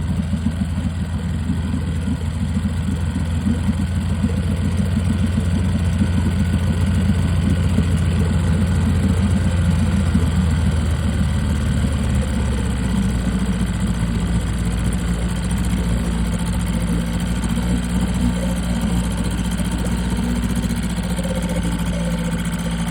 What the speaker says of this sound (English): Probably the best running engine of the group.